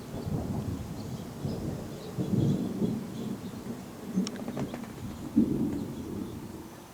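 Rumbling thunder from a close thunderstorm rolls and swells in low, repeated booms over several seconds, with a sharper crack near the end, loud and continuous with faint rain texture in the background.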